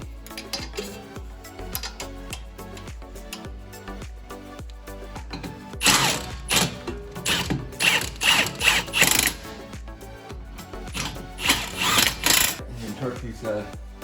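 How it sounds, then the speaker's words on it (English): Metallic ratcheting and clanking from a torque wrench tightening spindle-to-strut nuts on a Mustang GT500 front suspension, in repeated close bursts of quick clicks with some intermittent background noise. "And torque these spindle and strut nuts to 148 pound-feet."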